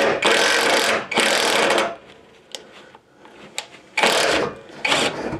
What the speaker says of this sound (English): And we'll go ahead and take this bolt out.